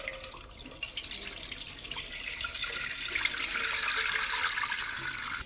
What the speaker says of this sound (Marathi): आता मी ह्याच्यावरती चाळण ठेवून चिकता गाळून घेते.